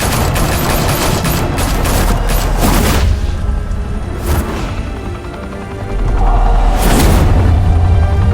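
Loud, heavy gunfire and booms in a Batman video game, sustained volleys with sharp blasts standing out, close and filling the whole stretch without speech.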